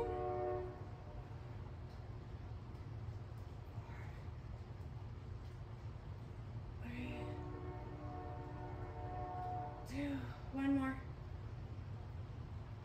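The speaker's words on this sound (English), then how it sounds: "There's a train that goes by right straight across the ocean, kind of in that mountain" Train horn sounding several times from a distance across open water, long tonal blasts over a constant low rumble of the passing train.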